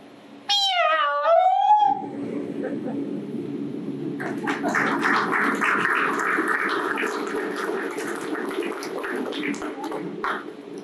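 A cat lets out a long, loud, wavering meow, close and alone, before a busy murmur of crowd-like noise takes over.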